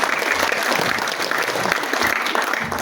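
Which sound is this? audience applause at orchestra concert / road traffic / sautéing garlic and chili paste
audience applause at orchestra concert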